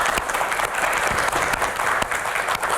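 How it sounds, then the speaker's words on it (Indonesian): A studio audience at an Indonesian political talk show claps for an arriving Golkar party guest, a dense, even burst of applause that holds steady and loud throughout, with no talk over it. "Kita berikan tepuk tangan untuk Ketua DPP Golkar"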